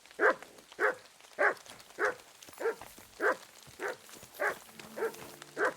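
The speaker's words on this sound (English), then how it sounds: "Sometimes he does that where he just starts" A dog in the video game Kingdom Come: Deliverance II barking steadily, ten evenly spaced barks at a regular rhythm, moderately near, with no other sounds.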